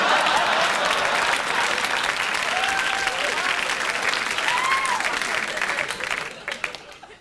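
A studio audience at a 1997 late-night comedy talk show bursts into sustained, dense applause with a few whistles rising through it, loud and continuous before thinning out near the end.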